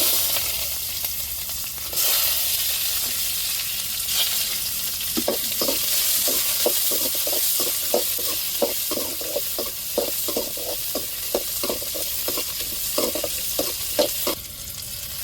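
Onions sizzling and frying in a pan for a prawn and crab meal, a steady loud hiss with a regular series of scraping stirs through the middle, no voices.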